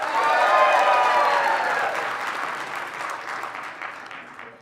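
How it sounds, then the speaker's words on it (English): Audience at a stand-up comedy show in the Royal Theatre answers with a burst of applause mixed with whoops and raised voices, the clapping thinning and easing off over several seconds. "By applause, how many of you like to make fun of people who sing karaoke?"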